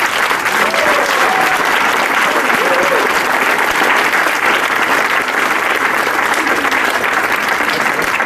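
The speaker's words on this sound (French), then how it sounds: "Vous pouvez encore une fois les applaudir." Loud, sustained applause from a large audience, a dense, even wash of clapping that holds steady throughout.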